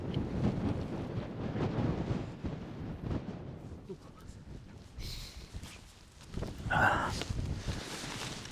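Strong, gusty wind buffets the microphone on an exposed hill plateau, a loud, continuous low rumble that eases midway and surges again near the end, with some rustling on top and no talk.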